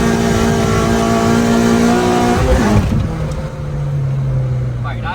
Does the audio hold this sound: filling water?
no